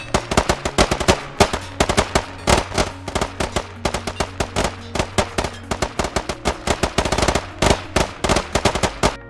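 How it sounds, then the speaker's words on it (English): Rapid bursts of machine gun fire in the video game Squad, overlapping and continuous with no lull, loud and sharp cracks repeating densely throughout without talk. "The whole intent is to ensure there's no lull in the gunfire, thus talking guns."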